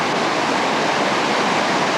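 Whitewater rapids on the Ocoee River roar as a dense, continuous rush of churning water, loud and close without pause.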